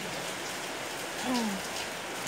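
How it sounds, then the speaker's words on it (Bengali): Rain starts falling again outdoors, a light, steady hiss of drops across the whole clip with a brief chirp near the middle. "এই যে এখন শুরু হলো আবার বৃষ্টি।"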